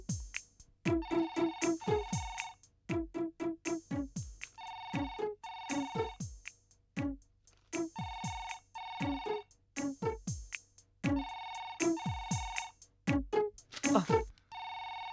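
A telephone rings in a Tamil TV serial scene, its electronic ringtone sounding in repeated bursts with short gaps throughout, fairly loud and close, with no talking over it.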